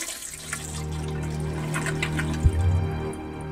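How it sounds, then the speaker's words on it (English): An old prison toilet in the game Stonewall Penitentiary flushes, a close rushing swirl of water with a low hum that cuts off sharply near the end, then settles into a faint trickle. "It still flushes."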